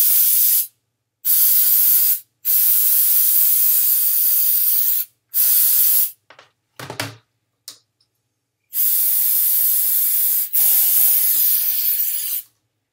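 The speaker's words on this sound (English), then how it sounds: "Spray everything down." Several long bursts of electronics cleaner spray hiss over a water-soaked drone's parts, each a few seconds, separated by short pauses, close and fairly loud.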